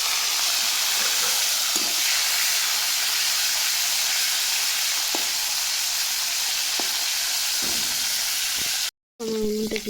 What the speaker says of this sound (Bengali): ফুলকপি কটা আমি দিয়ে দিচ্ছি, ফুলকপি কটা ভেজে নেব